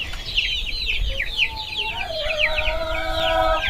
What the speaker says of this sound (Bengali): এদিকে মুরগির বাচ্চাগুলো ছেড়ে দিলাম ওদের খেতে দিলাম